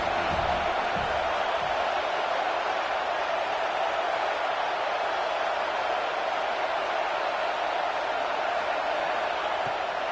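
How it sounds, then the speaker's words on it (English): A college football stadium crowd at a UCLA versus USC game roars louder as the defense faces third down. The noise is a steady, dense, broad wash that holds throughout, with no clear voices. "Decibels rising as the crowd gets behind this defense on 3rd down."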